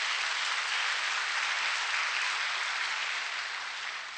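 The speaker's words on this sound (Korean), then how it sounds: "박수 영광 돌리겠습니다" A church congregation applauds during a Sunday service, a dense, steady wash of many hands clapping that holds evenly for several seconds, moderately loud, with no talk.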